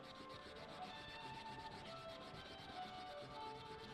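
Steady, continuous sandpaper rubbing on a rear Lester wheel, working the surface with fine grit. The scratchy friction runs unbroken at an even level throughout, with no talk.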